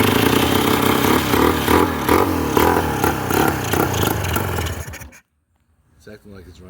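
A Polaris 400 Xplorer ATV engine with a gas leak runs loud and close with an uneven, clattering sputter, then cuts out to silence before a faint restart of noise.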